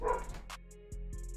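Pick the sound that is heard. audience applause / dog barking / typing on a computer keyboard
dog barking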